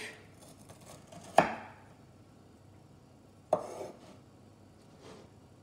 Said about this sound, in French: Et mes carrés, je les recoupe en 2.